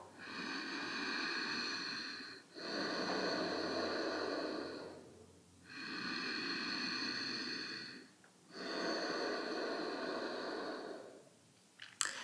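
Soft Ujjayi yoga breathing with a gentle throat constriction makes four long, even, airy whooshes, each in or out breath separated by a short pause, close and quiet with no talk.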